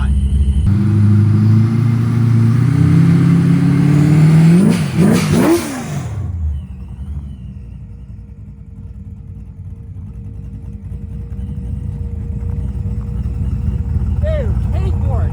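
A boosted small-block Chevy S10 truck revs hard and accelerates with a loud, rising engine roar for several seconds, then drops to a low rumble as it pulls away, with voices talking nearby.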